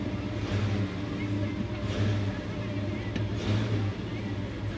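A Ford Bronco engine runs after maintenance and is given some gas, producing a steady, fairly loud low rumble that swells slightly without a sharp rev peak.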